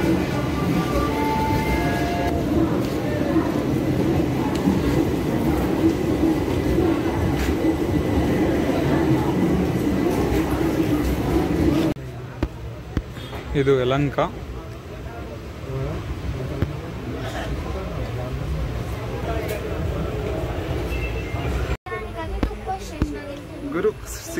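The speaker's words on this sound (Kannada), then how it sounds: "5:00 ಟ್ರೈನ್ ಬಂದೇ ಬಿಡ್ತು." Inside a moving passenger train carriage near Bangalore, a loud continuous rumble and rattle of the wheels fills the space, easing partway through, while someone talks briefly over it.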